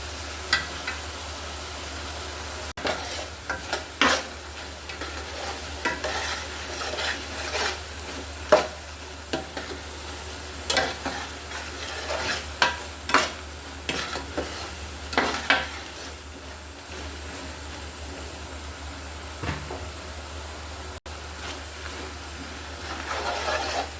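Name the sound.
garlic pickle cooking on low heat, stirring and sizzling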